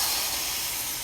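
Water poured into a very hot pan for upma erupts into a loud, steady steam hiss, close and continuous, fading only slightly toward the end with no talking.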